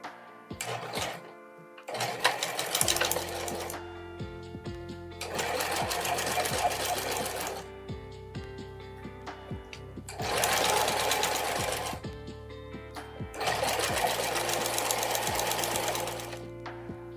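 A sewing machine stitches a tote bag shut, running in four long steady bursts of loud rapid mechanical chatter, with quiet pauses between runs.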